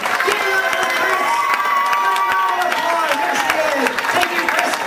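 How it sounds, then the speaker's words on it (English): Applause and cheering from a crowd with children's shouts at a magic show, loud and continuous clapping mixed with excited voices and whoops, close and lively throughout. "One round of applause! Come on!"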